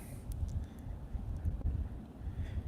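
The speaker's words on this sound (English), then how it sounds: "It is really windy here right now." Strong wind gusts steadily across an outdoor microphone, a low continuous rumble and buffeting with no other clear sounds.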